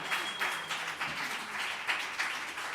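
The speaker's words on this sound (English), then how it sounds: "Emma Collier, big applause, the great poetress." At a poetry show at the Booze Cooperativa, the audience applauds with continuous, even clapping from a modest crowd, heard at moderate volume throughout.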